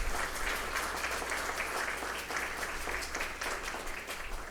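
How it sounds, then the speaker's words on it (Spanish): Sustained applause from an academic lecture audience welcoming the invited speakers, even and fairly soft, filling the room for several seconds with no talk over it. "a quienes recibimos con un aplauso"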